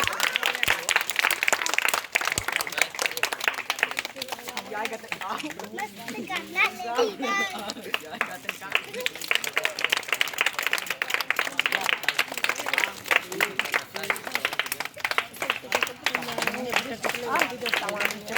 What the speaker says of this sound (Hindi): सभी लोग ताली बजा के सम्मान करें।